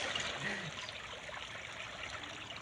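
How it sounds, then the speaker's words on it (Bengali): Water trickling and splashing steadily as a pond is bailed out by hand to catch fish, a continuous close wash of running water with no voices. "বাবা এখন মাছ ছেঁচছে, জল ছেঁচছে, মাছ ধরছে।"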